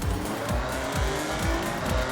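An Audi e-tron races along an asphalt road in Forza Horizon 6, set in wintry Japan, with a steady loud drive sound and repeated tire squeals and skids.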